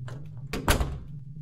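Door being tried in the horror game The Crooked Man: one brief rattling thud and clatter in the middle, alone over a low droning background hum.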